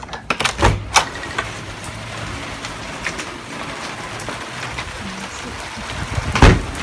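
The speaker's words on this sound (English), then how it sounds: "the door slammed shut because all the windows are open" A door slams shut during a rainstorm, a sharp close thud near the end following a few knocks at the start, over the steady hiss of rain.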